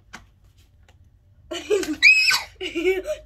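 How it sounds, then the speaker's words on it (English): A child screams loudly indoors after a near-silent start, a few shrill, strained bursts that rise and break, mixed with giggly vocal sounds. "Don't scream."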